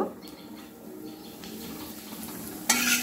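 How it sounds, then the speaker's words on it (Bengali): Papad frying in hot oil, a soft steady sizzle with faint stirring and utensil scrapes in a home kitchen, ending in a brighter burst of crackling as more hits the oil. "খিচুড়ির সঙ্গে আমি পাঁপড় ভেজে নেব।"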